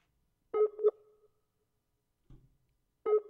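An unanswered outgoing phone call rings through the line: two spaced bursts of buzzy ringback tone with a long gap between them, plus a brief low thump in the pause, with no voices.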